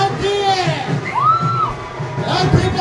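Crowd at a film premier show at Swati Cineplex greeting actor Anubhav Mohanty's entry with loud whoops, yells and cheering, a dense, close roar of voices with rising shouts throughout.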